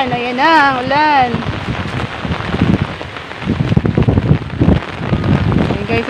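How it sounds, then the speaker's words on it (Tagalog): Rain falling in bad weather by the sea in Bataan, a noisy hiss with wind buffeting the microphone and a voice talking at the start. "Ayun na, ang ulan."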